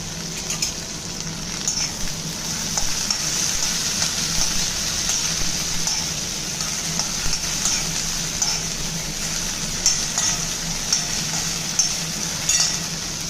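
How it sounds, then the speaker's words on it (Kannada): Vegetables sautéing in a pan with chili powder and salt, a steady close sizzle with light scraping and clinks of stirring running continuously throughout, no talking. "ನಂತರ ಸ್ವಲ್ಪ ಚೆನ್ನಾಗಿ ತಾಳಿಸಿ ನಂತರ ಇದರಲ್ಲಿನ ಲೋಳೆಯಾದ ಅಂಶ ಹೋಗುವವರೆಗೂ ಚೆನ್ನಾಗಿ ಹುರಿಯಬೇಕು"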